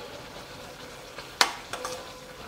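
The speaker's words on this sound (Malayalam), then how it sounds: "അപ്പോൾ ഇത് നല്ലപോലെ തിളയ്ക്കുന്നുണ്ട് കേട്ടോ" A pan of rose apple pickle boiling and frothing gives off a soft, steady bubbling hiss, with one sharp utensil clink partway through and a few fainter knocks after.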